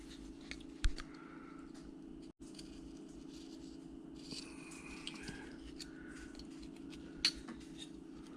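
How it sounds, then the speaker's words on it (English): A blade shaving wood while a rifle stock is carved by hand: scattered faint scraping and clicking strokes, a couple of sharper ticks, over a steady low background hum. "Let's cut back and shave this off."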